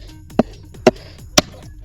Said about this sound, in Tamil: கல் விளிம்பில் வந்து நம்ம உடைக்க போகிறோம்